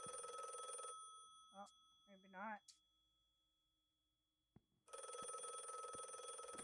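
A telephone rings in a horror mystery video game, its bursts of electronic trilling loud at start and end around a quiet gap holding a brief spoken comment.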